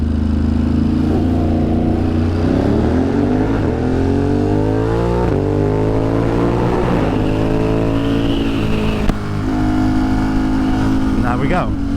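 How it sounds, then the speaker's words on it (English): A car engine in New York City traffic drones loudly and close, its pitch rising and falling through repeated revs and gear changes, with other vehicles blending into the steady roar. "I was wondering why there's so much traffic."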